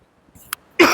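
A man coughs during a maths lesson. One sharp, loud cough bursts out at the end after a brief quiet throat sound.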